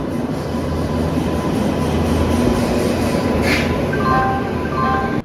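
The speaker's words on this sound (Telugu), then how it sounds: "అదిగోండి మన ట్రైన్, విశాఖపట్నం కొల్లం స్పెషల్." A Visakhapatnam–Kollam special express hauled by a WAP-7 electric locomotive rolls into a station, its steady loud rumble of wheels and carriages filling the scene, with a few brief high squeals near the end.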